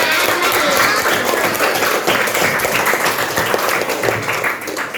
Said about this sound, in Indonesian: Tepuk tangan buat Zidane.